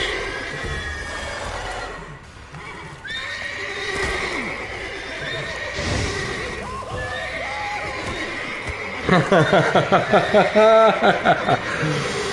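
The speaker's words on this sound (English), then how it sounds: "we got horses going crazy" Agitated horses in The Witcher 3 neigh and whinny loudly, with sharp, repeated calls bursting out near the end over a busy game soundscape.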